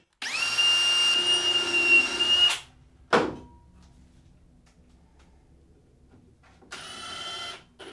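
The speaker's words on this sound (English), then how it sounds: "I'm going to drill pilot holes first." A power drill whirs loudly for a couple of seconds while drilling pilot holes in wooden drawer parts, stops with a brief clunk, then after a quiet pause spins up again briefly.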